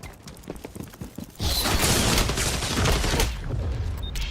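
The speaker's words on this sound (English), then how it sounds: "Grenade out!" A thrown grenade blowing up in the shooter game XDefiant, with scattered clicks and shots giving way to a sudden loud, sustained roaring burst of noise that lingers for a couple of seconds.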